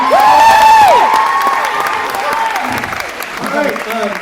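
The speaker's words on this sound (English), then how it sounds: "Can I just get a round of applause just for how many of you are in this room?" A crowd bursts into applause and cheering with a loud whoop at the start, clapping carrying on under shouted voices and gradually thinning.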